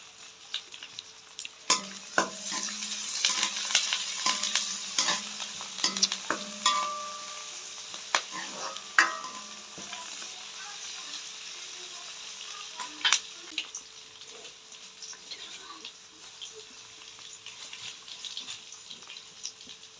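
Curry leaves sautéing in a pan for a Jaffna-style fish curry give off a steady sizzle, broken by scattered spoon scrapes and clicks, with no talking.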